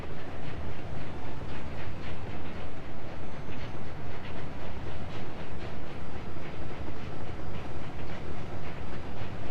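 Trains run on rails in the video game Workers and Resources, a steady rhythmic clickety-clack of wheels over track joints repeating evenly throughout, loud and alone with a faint hiss beneath.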